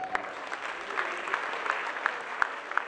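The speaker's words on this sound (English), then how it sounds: "All right, give a round of applause." A crowd gives a round of applause at a health awareness day event, a moderately loud, even wash of clapping with a few sharp individual claps standing out and faint background voices.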